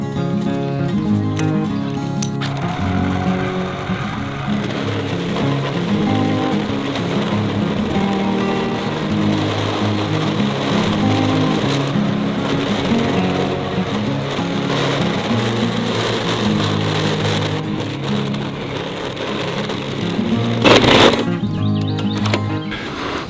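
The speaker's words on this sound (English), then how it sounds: "we're gonna try to just start with the stump grinder here" A gas-powered Power King stump grinder chews into an oak stump. Its steady, loud engine drone and rough grinding run continuously, with a brief sharper crunch near the end.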